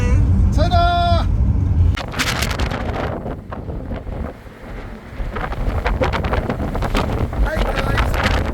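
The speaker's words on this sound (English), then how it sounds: "It's probably windy." Strong desert wind at Meteor Crater, Arizona, buffeting the microphone in loud, continuous roaring gusts that swell and dip, with brief talk near the start and a few faint tonal sounds.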